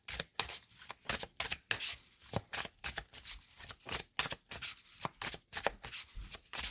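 Tarot cards are shuffled in a quick, close series of crisp riffling bursts with short pauses between them, alone with no voices.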